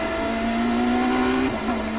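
BMW M Hybrid V8 LMDh race car in iRacing at Sebring, engine droning steadily at high revs with a sustained tonal whine, pitch holding then dipping slightly near the end.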